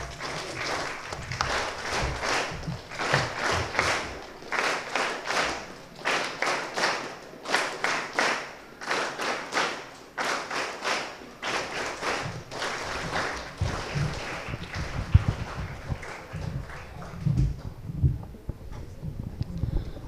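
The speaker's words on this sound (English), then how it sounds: "give a big round of applause" Audience applause at a school session with exam toppers: an irregular series of rhythmic clapping bursts, close and moderately loud, with pauses between groups of claps and some thumps and movement noise toward the end.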